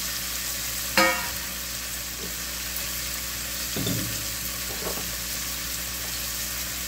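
Fish and tomatoes sauté in a pan with a steady sizzle. A few sharper clinks and stirring scrapes cut through near the start and middle, with no talking.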